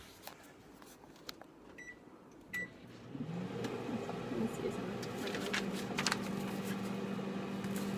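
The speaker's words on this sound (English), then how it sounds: "Next, we're going to heat it in the microwave." Microwave oven heating a puppy chow mix of peanut butter, butter, vanilla and powdered sugar in a home kitchen, a steady hum rising after a few seconds with a low drone, light clatter and beeps, voices talking nearby.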